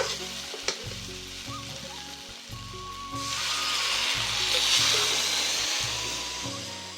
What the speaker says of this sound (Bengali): এবার আমি প্রয়োজন মতো জল দিয়ে দেব